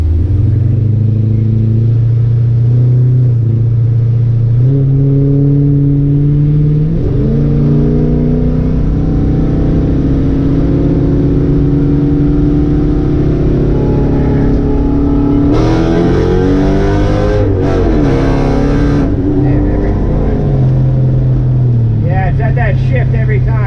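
Mercedes CLK55 AMG engine revving and pulling hard through the gears on a road run, the loud droning note climbing, dipping at each shift and rising again, with people talking over it in the cabin.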